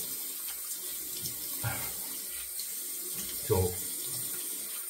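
A bathroom tap runs steadily into a sink as water is splashed on the face before a wet shave, giving a continuous soft hiss with a few louder splashes and a brief spoken word.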